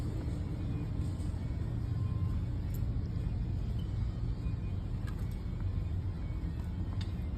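Steady wind-blasted road roar of a motorcycle cruising on a freeway, a continuous low rumble with rushing air and no breaks.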